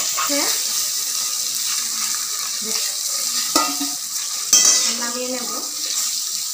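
Ginger, green chili and cumin fry in oil with a steady sizzle, while a utensil gives occasional knocks and scrapes against the pan, and a brief voice-like sound is heard partway through.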